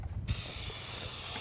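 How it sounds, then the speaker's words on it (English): Cooking spray hisses onto a cheesecake pan in one long, steady burst that starts abruptly after a brief quiet moment and runs loud and close to the end. "we're just going to spray our pan really well"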